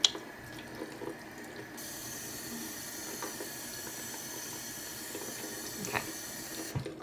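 Tap water running into a sink while someone wets their face, a steady, moderately loud hiss with faint splashes and small knocks, no voices.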